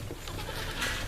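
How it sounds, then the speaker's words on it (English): White billy goat bleating on a farm, a short nasal call close to the microphone with no talk. "this goat, Moses right here, is a white goat"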